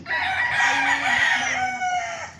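Chickens at a chicken farm, with a rooster crowing loudly and close amid steady clucking and fowl chatter, a sustained busy flock sound throughout.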